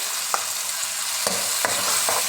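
Onions, ginger, garlic, green chilli and tomatoes frying in a pan, a constant hissing sizzle punctuated by a few clanking stirs of a spoon, no talk.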